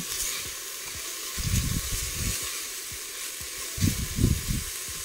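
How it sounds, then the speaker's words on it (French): Lentils browning in a pan for lentil soup, a steady soft sizzle with bursts of stirring and scraping around the pan at close range, no talking. "Fait bien dorer, fait bien revenir les lentilles."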